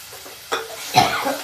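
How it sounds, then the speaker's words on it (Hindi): Tomato paste for a gravy hits a pan of already-browned onions and sizzles, with a sudden burst of frying and stirring that swells again midway, close and fairly loud. "अभी टमाटर का पेस्ट भी पकाएंगे।"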